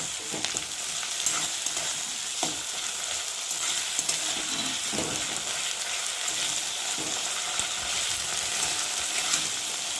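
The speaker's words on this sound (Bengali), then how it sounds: "দেখতে পাচ্ছ এখন লঙ্কা দিলাম, দিয়ে মশলাটাকে একটু ভালো করে ভেজে নেব" Spice masala with green chili frying for a country chicken curry, giving a dense, steady close sizzle with faint scattered scrapes of stirring, unbroken for the whole stretch and with no voices.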